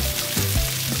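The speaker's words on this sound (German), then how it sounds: "die Hackbällchen brutzeln schon richtig gut" Meatballs sizzle in a hot pan, a steady close crackle and hiss that fills the whole brief moment.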